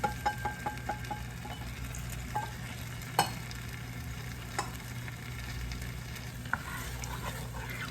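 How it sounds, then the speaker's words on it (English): Steady sizzling of beef and broccoli sauce thickened with cornstarch bubbling in a frying pan, with a run of light ticking pops at first, then occasional sharp utensil knocks; no voices. "you see that it's bubbling up like a gravy"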